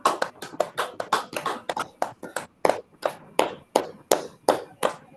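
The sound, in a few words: hands clapping ten times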